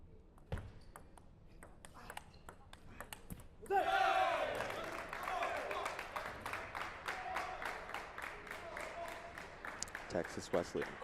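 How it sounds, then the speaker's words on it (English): A Texas Wesleyan crowd at a collegiate table tennis team championship breaks into a sudden loud roar of cheering and shouts, while sharp ball pings tick rhythmically throughout and commentary runs underneath. "Texas Wesleyan crowd bringing a lot of energy early here."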